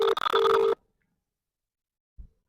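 A phone call is placed: a short electronic telephone tone pulses near and loud for under a second, then cuts to silence, followed by a faint brief thump.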